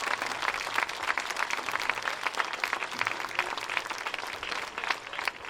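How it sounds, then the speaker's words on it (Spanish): Sustained, fairly loud applause from an audience honoring the teachers of a bagpipe band at a live gathering of bands, continuous dense clapping with a light crowd murmur. "Un aplauso muy fuerte otra vez para Belu y para David Caguas"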